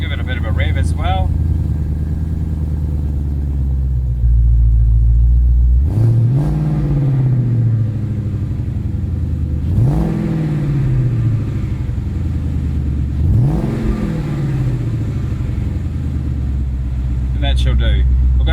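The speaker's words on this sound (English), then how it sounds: "Give it a bit of a rev as well." A 2015-2017 Ford Mustang GT fitted with a Stage 2 performance power pack idles with a deep loud rumble, then is revved three times, each rev a sharp rising roar that falls back to idle.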